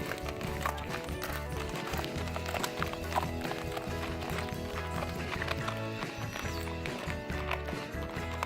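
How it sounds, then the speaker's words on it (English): Steady clopping of hooves on hard ground as horses walk along, with faint voices now and then. "Leading horses in our pajamas"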